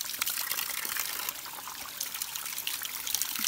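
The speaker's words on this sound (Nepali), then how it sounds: "यो चाहिँ माथि जरा जराहरूबाट उम्रेर आएको पानी रहेछ" Spring water trickles steadily from tree roots in the hills of Kamsi village near Kalimpong, a soft continuous flow heard up close and fairly quiet, with no talking.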